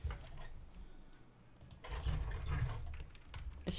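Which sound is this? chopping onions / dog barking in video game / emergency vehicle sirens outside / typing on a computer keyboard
typing on a computer keyboard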